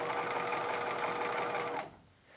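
A sewing machine runs a fast, even stitch along the hem of a 1950s halter dress, a steady close whirring burst that stops abruptly near the end, leaving quiet room tone.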